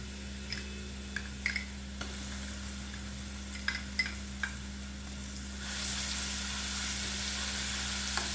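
A soaked paste is stirred into dum aloo gravy frying over slow-to-medium heat for a restaurant-style Banarasi dish. Scattered faint spoon clicks sit over a steady low hum, then a louder, even sizzle swells partway through.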